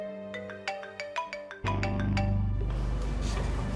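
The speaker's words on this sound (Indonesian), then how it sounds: "Itu HP kamu dari tadi bunyi terus, Leli." A mobile phone rings indoors at home with a short melodic ringtone of repeated bright notes, then a loud, dense wash of sound swamps it for the rest of the moment.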